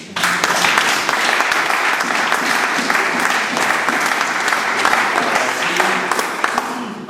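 A church congregation bursts into sustained applause and cheering, a dense unbroken wash of clapping that holds steady and loud from start to finish with no voice above it.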